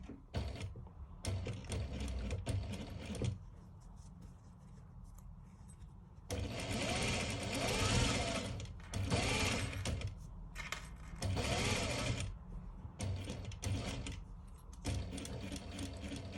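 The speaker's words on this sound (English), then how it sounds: "Feel free to start from the edge when stitching that together or sewing that in place." Close sewing machine stitching a zip fly, running in several short bursts of rapid mechanical whirring and clatter, separated by quiet pauses with soft handling noises.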